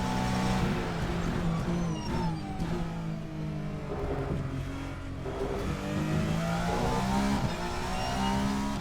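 A Peugeot race car engine in Assetto Corsa at Monza, heard from the cockpit as a steady loud drone that rises and falls through shifts and revs across the lap, with no talk over it.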